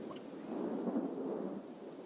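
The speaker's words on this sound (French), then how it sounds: "T'entends juste un orage au loin et un peu de pluie" A distant thunderstorm rumbles low and steady with light rain falling, a soft continuous wash that swells slightly in the middle and holds at a moderate, faraway level with no voices.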